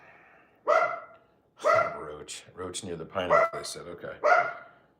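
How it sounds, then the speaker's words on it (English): A dog barks indoors late at night in Chile during home cooking, giving a few sharp, loud barks spaced across the stretch and mixed in with a person talking nearby. "Sorry about the dog. I might have to go wrestle him or something."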